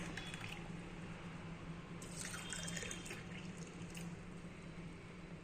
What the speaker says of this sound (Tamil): இந்த 3 டம்ளர்லையும் நம்ம ஊற்றிக்கலாம்.